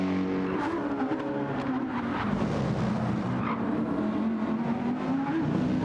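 A race car engine in a racing video game roars continuously at high revs, shifting pitch through gear changes with brief tire squeal, loud and close throughout, no talking.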